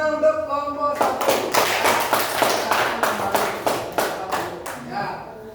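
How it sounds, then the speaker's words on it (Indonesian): Classroom applause for the first student group: a burst of many hands clapping in quick, uneven rhythm for several seconds, fading out, with a voice speaking just before it begins. "Ya, tepuk tangan untuk kelompok 1."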